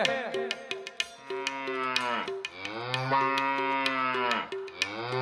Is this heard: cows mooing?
yes